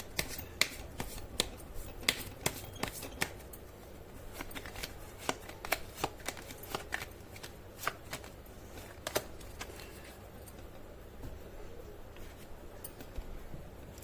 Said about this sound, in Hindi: चलिए अब ये देख लेते हैं कि हमारे इंडियन टैरो कार्ड हमें क्या सजेस्ट करते हैं।